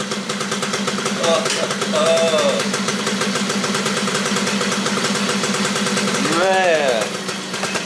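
Honda Cub EZ90 motorcycle idling after its first start in 13 years, a close steady putter with a few brief revs, while someone talks over it.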